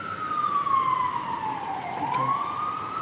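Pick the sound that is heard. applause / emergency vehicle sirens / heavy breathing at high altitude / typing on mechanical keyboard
emergency vehicle sirens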